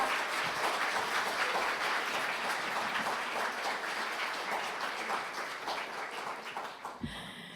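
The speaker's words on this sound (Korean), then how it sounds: "여러분 다시 한번 큰 박수로 축하를 해주시길 부탁드리겠습니다" Sustained applause from an audience at the Daesan Rural Award ceremony rolls on for several seconds, a broad, even clapping that gradually thins and fades, ending with a brief clatter.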